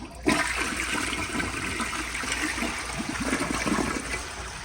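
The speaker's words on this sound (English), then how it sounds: "here is a flush" A 1998 Sterling Windham toilet flushes with a loud, steady rush of water that runs continuously for several seconds without any talking.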